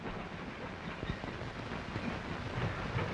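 An N&W railroad freight car rolls down a classification hump yard, a steady rumbling roll with a few faint clanks and wheel clicks, no voices.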